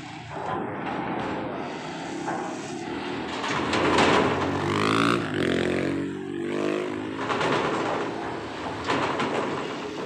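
Motorcycles riding off a ferry ramp at Merak harbour, their engines a loud, continuous rumble with rising and falling revs as they pass close by in a steady stream.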